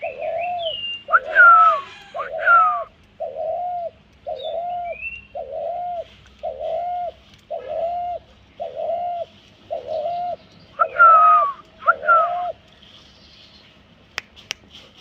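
A ghughu dove used as a decoy in a bird trap coos in a steady, evenly spaced series of about a dozen rounded calls, close and clear, with a few higher chirps and whistles mixed in.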